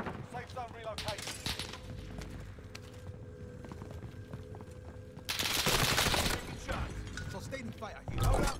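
Rapid bursts of gunfire in Call of Duty Warzone, loud volleys crackling at the start and again in a heavy, dense burst near the end, with game sounds and radio-style voices in between.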